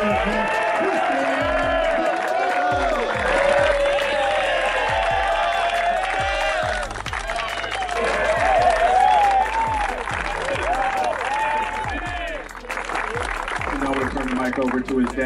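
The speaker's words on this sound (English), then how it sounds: "One more time, a round of applause for your All-American Christian." A crowd claps and cheers at a football jersey presentation ceremony for an All-American player, sustained applause mixed with whoops and shouts while music plays underneath and a voice speaks over the noise.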